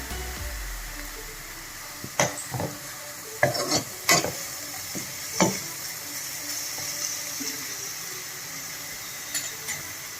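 Four green chillies and two sprigs of curry leaves drop into hot oil in a pan for Koramenu fish curry, a soft continuous sizzle broken by a few sharp spatula knocks and clinks, no talking.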